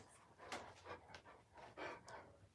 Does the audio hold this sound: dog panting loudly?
yes